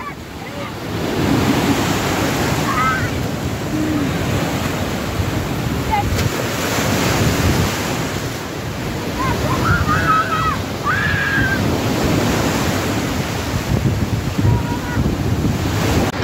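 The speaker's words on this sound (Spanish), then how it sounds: "Pero hace muchas olas." Ocean waves wash onto a beach in a steady, loud roar of surf with wind buffeting the microphone, a few faint distant voices scattered through.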